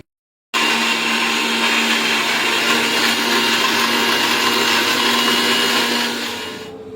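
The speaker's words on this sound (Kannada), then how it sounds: "ಇದಕ್ಕೆ ನಾವು ಮಿಕ್ಸಿಗೆ ಈ ಸಕ್ಕರೆಯನ್ನ ಸಹಿತ ಹಾಕೋಬೇಕ್ರಿ." A mixer grinder grinds sugar. It starts abruptly after a moment of silence and runs as a loud, steady motor whine and rattle, then begins to wind down at the end.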